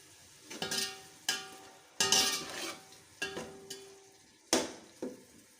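Chicken pulao masala with tomatoes cooking in a pan, with about six distinct scraping stirs of a utensil against the metal at irregular intervals over a faint background sizzle, near and fairly loud, no talking.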